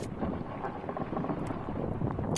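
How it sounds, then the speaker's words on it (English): Strong wind buffeting the microphone while sailing a proa, a dense continuous low roar with gusty fluctuations, loud and close throughout. "as you can see, it's pretty windy"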